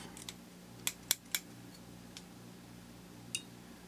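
Scissors snipping off excess bucktail while tying a Deceiver fly, a few sharp close clicks in a quick cluster of three, then isolated snips, over a faint low hum.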